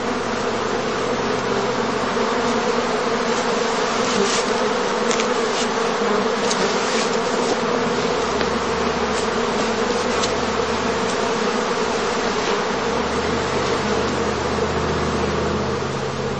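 Honeybees buzz steadily around a straw skep hive on summer heathland during the heather bloom, a dense continuous hum of many insects close by, with individual bees zipping past now and then.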